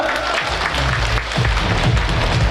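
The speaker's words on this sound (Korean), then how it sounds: "박수로 모시겠습니다" An audience claps to welcome a line dance team onto the stage at a lifelong learning centre showcase, a loud, dense burst of applause in a hall with some low booming underneath.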